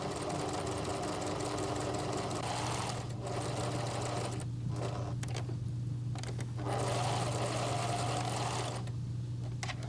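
A sewing machine stitches a dress seam with a small stitch length, running steadily and close with a loud mechanical hum, pausing briefly twice before resuming.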